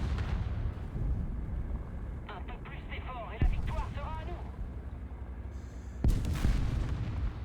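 Heavy booms of artillery fire in the War Thunder tank game, a couple of deep impacts with rumbling aftermath over constant engine noise, while a voice talks underneath.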